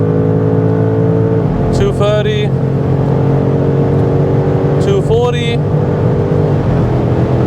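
A BMW M5 G90 accelerates hard at full throttle, a loud, steady engine roar building continuously throughout, with a voice calling out numbers twice over the noise.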